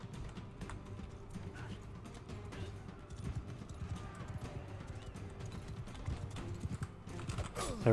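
Horse hooves clip-clop in a steady galloping rhythm through a Mount & Blade 2 Bannerlord battle, continuous and fairly close, with a rising whoosh near the end and other game noise underneath.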